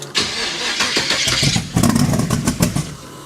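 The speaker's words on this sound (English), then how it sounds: "This little engine is a monster. We'll try getting her to run again." A carbureted engine in a T-bucket hot rod cranks in a cold garage without choke, the starter churning loudly with rhythmic pulses as the engine sputters and briefly catches, close and unaccompanied by talk.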